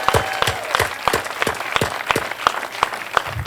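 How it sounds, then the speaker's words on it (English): Audience applause at a One World Day ceremony in Cleveland, Ohio, steady clapping from a crowd with sharp individual claps standing out, fairly close and sustained throughout with no talk over it. "Let's give them another round of applause."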